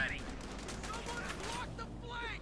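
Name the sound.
machine gun fire in video game Company of Heroes 2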